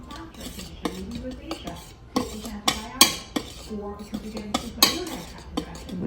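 Dry ingredients for a Jamaican black fruit cake are stirred in a bowl, a utensil scraping and clinking in quick irregular strokes, close and fairly quiet.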